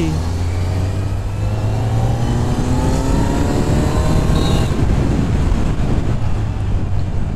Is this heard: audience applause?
no